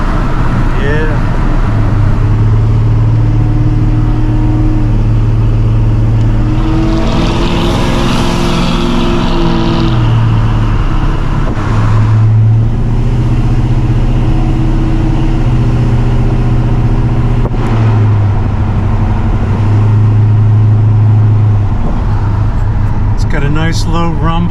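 A car with a Blueprint Engines 350 V8 is driven down the road, heard from inside as a steady, loud low rumble and road noise that swells and eases with throttle.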